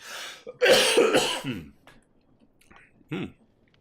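A man coughs several times in a harsh, rough burst close to the microphone, followed by a quieter throat-clearing cough after a short pause.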